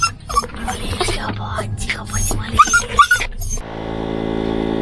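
A dog makes a few short whimpering and growly noises amid outdoor chatter by a canal, then a steady engine-like hum takes over near the end.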